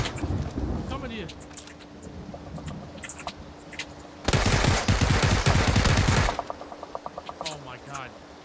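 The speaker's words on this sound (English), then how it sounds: "They're just shooting at me." Automatic gunfire in PlayerUnknown's Battlegrounds erupts in a loud, sustained burst of about two seconds, with quieter scattered shots and a player talking before and after it.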